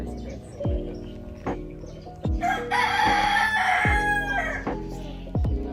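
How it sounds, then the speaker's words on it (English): A rooster crows loudly in the foreground, a long rising call, over a rhythmic thumping background and intermittent clucks, in a Singapore kampong. "Roosters don't seem to take a break at all."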